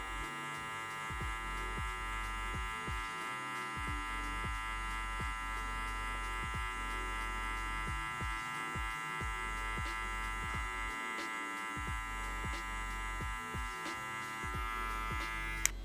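Electric hair clippers fitted with a 1 guard hum steadily while cutting a low taper fade, a constant close buzz with slight changes in pitch as they move across the head, and no talking.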